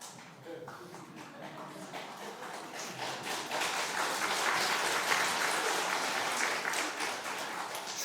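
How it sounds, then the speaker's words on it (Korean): A church congregation applauds during a Sunday afternoon worship service. The clapping is dense and steady and swells toward the middle, with some voices mixed in. "자기 목사님 박수 치는 건 처음 봤어요."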